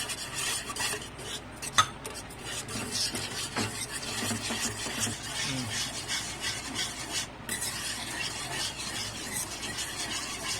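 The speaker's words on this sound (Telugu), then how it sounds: "టేస్ట్ క్రీమ్ ఇట్లా ఉంటుంది, ఫ్రెష్ క్రీమ్ అలా వచ్చినంత వరకు కలుపుకోవాలి" Milk being stirred into fresh cream with a spoon in a bowl, a continuous scraping, rubbing swirl with occasional light clinks against the side, close and steady throughout, no voices.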